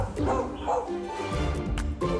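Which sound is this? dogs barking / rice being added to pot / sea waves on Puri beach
dogs barking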